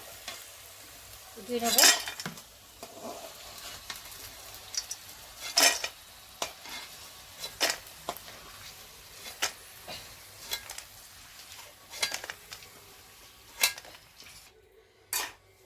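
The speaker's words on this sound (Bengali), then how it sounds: "প্রায় ভাজা হয়ে এসছে সুন্দর ভাজা হয়ে গেছে" King crab pieces fry in a pan, a soft steady sizzle broken by repeated loud scraping and clanking of a spatula against the metal as they are stirred, with no talking.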